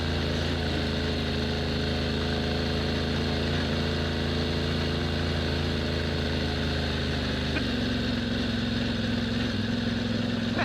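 A Yamaha Tenere 700 motorcycle engine runs steadily while riding off-road, a constant droning hum that shifts pitch slightly later on, with no talking.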